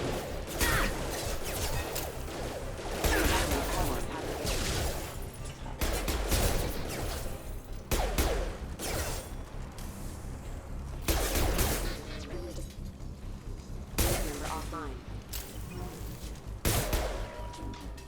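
Repeated loud bursts of weapon fire crack in a Mass Effect Legendary Edition firefight, clustered blasts separated by short lulls, with faint voices beneath.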